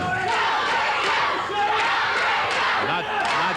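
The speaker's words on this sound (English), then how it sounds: "they're cheering for Jerry" A studio wrestling crowd at a Championship Wrestling match roars and cheers continuously, with shouting voices and occasional thuds mixed into the dense crowd noise.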